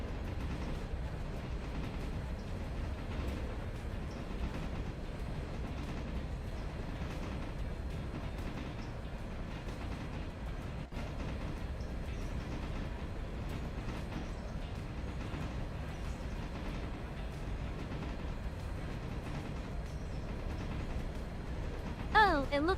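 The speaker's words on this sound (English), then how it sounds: "Oh, it looks like a logging train got to where it was supposed to be." A logging train rolls past on the railroad with a steady low rumble and faint clatter that holds evenly, somewhat distant and fairly quiet, ending with a brief louder sound.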